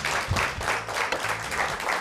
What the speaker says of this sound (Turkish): Alkış alalım Bursa'ya.